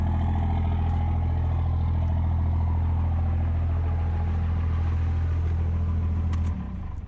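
A race truck's engine idles with a steady low rumble, then cuts off abruptly near the end, leaving only faint background sound.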